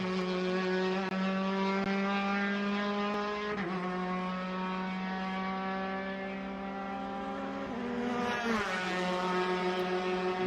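Race cars battle for position on a road course at NOLA, engines droning loudly and continuously, with pitch dropping and climbing as they brake and accelerate through corners.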